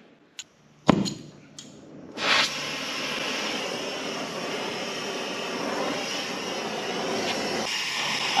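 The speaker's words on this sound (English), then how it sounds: "So do your torch thing, Cleaner." Torch heating the bearing inner race on a 1941 Caterpillar D4 dozer: a few sharp clicks and a pop of ignition, then a loud, steady close roar of the flame that holds to the end.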